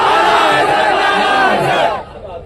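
A large gathering at a religious speech shouts a slogan back in loud unison, a roaring call-and-response that fills the space and then drops off sharply near the end.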